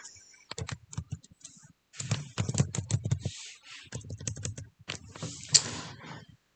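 Typing on a computer keyboard, bursts of quick, close key clicks separated by short pauses, ending with a louder single tap.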